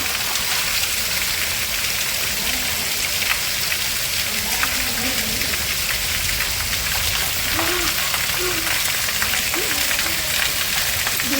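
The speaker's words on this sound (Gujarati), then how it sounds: "ધાબા ઉપર વરસાદ એવો છે પવન એવો બોલો" Heavy rain pours onto a village rooftop terrace with wind, a dense, loud, continuous hiss of drops throughout, with faint voices talking underneath.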